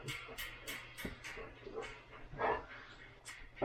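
A dog in a puppy playpen gives a run of sharp barks and yips mixed with whimpers, close and irregular, pausing between bursts with faint room noise.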